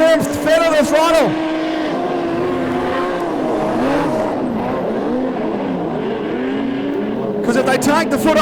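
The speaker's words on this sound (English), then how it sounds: "You can hear them feather the throttle." Modified sedan race cars lapping a showground speedway track, engines droning with wavering pitch as drivers feather the throttle, cars sweeping past up close with a race commentator talking over them throughout.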